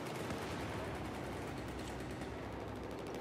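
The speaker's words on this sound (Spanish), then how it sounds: "¿de dónde rayos venía el disparo?" Heavy, continuous gunfire from the Battlefield 4 video game, a dense, unbroken rattle of rapid shots filling the whole stretch at steady loudness, with no talking.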